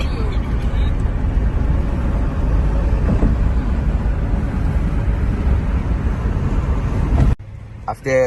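A car cruises on the highway during a road test, with a constant broadband rush of road and wind noise from inside. It ends abruptly in a quieter stretch.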